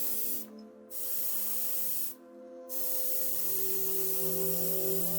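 An orange coat of spray paint goes onto a Matchbox Ford Transit dropside pickup model: three bursts of steady hissing aerosol, separated by two brief pauses, loud and close with no voices.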